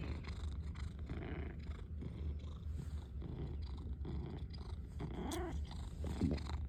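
A house cat purrs steadily right up close, a continuous low rumbling throb that carries on throughout, with faint extra movement noises near the end.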